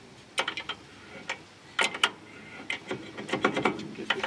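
A bolt is tightened during a front disc brake conversion on a Chevy Impala, giving irregular clusters of sharp metallic ratchet clicks, close and moderately loud, with short pauses between bursts.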